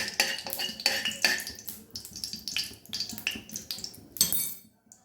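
Metal spoons clink and scrape against a wok and steel containers while white oil and ghee are spooned in for chicken chaap, a busy run of sharp, close kitchen knocks and taps with no talk.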